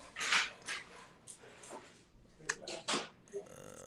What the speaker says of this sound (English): my dog's gonna keep barking